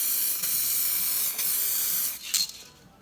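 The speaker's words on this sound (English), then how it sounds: "Every time you spray, you go a little bit further into the bumper." Steady, close hiss of a spray can or paint gun painting a car bumper, broken by a few short pauses, then a final burst that tapers off.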